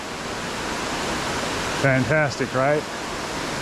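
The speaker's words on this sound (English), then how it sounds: "there's the waterfall" A waterfall on the Appalachian Trail approach trail, near stone stairs in the woods, gives a steady, broad rushing hiss throughout, with a person speaking briefly over it.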